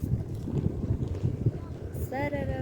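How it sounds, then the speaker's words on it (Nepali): Wind buffets the microphone in low, rumbling gusts in Khalanga Bazaar, Jumla, Nepal, and a voice briefly speaks near the end. "कस्तो दामी हावा लगाइरहेको"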